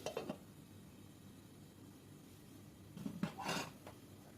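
A pot of goat curry is stirred and its lid set back on, giving a brief metal clink at the start and a louder clatter and scrape of the lid near the end, with quiet kitchen hush between.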